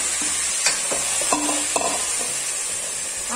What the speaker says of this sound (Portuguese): já tô com um alho douradinho aqui, que eu vou fazer aqui, gente, um refogado de legumes